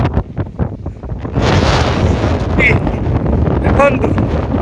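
Strong wind buffets the microphone on a hilltop beside Sindhua dam, a loud, steady broadband roar that rises after a softer opening, with people speaking under it.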